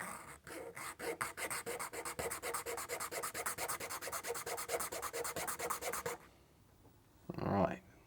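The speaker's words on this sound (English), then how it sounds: "we've got to sand these so that they fit" Small wooden parts from a Stephenson's Rocket model kit are sanded to fit, making a close, rhythmic back-and-forth scratching of about two strokes per second for six seconds. A brief voice follows.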